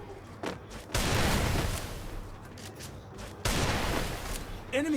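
Desert Eagle pistol shots in a Free Fire video game match, sharp loud bursts near one and three and a half seconds and a final crack at the end, all over steady in-game background noise.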